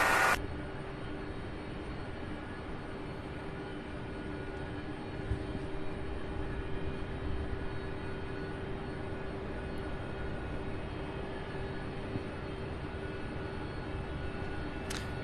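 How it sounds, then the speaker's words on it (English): A 22-year-old UPS Airbus A300 taking off from Louisville airport, its engines a broad, steady roar heard from a distance that holds at an even level throughout, with no voices. "So the next takeoff here is UPS 2338 heading to Jacksonville, Florida. A 22-year-old Airbus A300, and there it goes."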